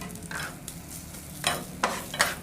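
Chicken being tossed and mixed in a pan with shawarma sauce and a salad of cucumber, capsicum and onion, with a soft steady sizzle and several sharper scraping stirs near the end, no talking.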